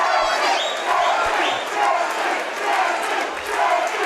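Crowd at a boxing match cheering and roaring in a loud, sustained wave, with no commentary heard over it.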